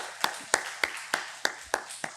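Church congregation clapping for the children during a Wednesday service, heard as about eight crisp claps in an even, steady rhythm, close and fairly sparse.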